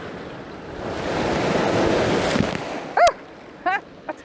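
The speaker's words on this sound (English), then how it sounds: "I told you the water was crashing over the rocks." Sea waves surge and crash over coastal rocks in a broad rushing wash that swells, peaks and recedes, with wind buffeting the microphone and a few brief sharp sounds at the end.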